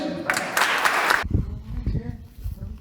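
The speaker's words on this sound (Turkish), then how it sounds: "Hepsine toplu bir alkış." A roughly one-second burst of dense audience applause for the university teams at a 2021 inter-university precision landing competition for pilot training programs, loud and close, then giving way to someone speaking.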